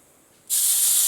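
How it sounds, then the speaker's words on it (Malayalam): Water hits hot spice masala in a pan for Kerala-style fish curry, setting off a sudden loud, steady sizzling hiss that starts partway in and continues without letting up. "ഇനി നമ്മളതിൽ ആവശ്യത്തിന് വെള്ളം ഒഴിച്ച് കൊടുക്കുവാണ്."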